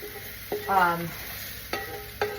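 Vegetables and salmon saute in a pan on a lit flame. A quiet sizzle runs underneath, with a few sharp utensil clicks against the pan and a brief tonal squeak.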